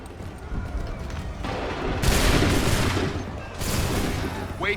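Rapid musket volley gunfire in Assassin's Creed III, a dense burst of overlapping shots swelling in two loud waves, with faint shouted commands mixed in.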